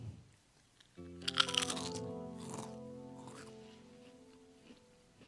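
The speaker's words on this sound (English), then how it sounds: "I'm chewing." Crunchy sour cream and cheddar potato chips are chewed close to the mouth, with a burst of crisp crunches followed by a softer chewing sound that fades out.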